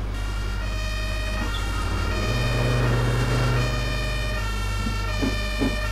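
An ambulance siren from the OMSI 2 bus simulator game wails steadily with a rising-falling pitch over a constant low engine hum, moderately close and without talk.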